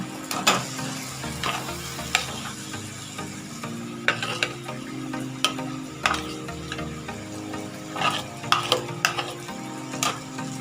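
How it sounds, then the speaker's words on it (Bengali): Mashed taro (mankochu) stirred in a pan, a soft sizzle under repeated clicking scrapes of a spoon against the metal, irregular and close, with no talking. "দিয়ে ভালো করে আমি নেড়ে চেড়ে নেবো এইভাবে"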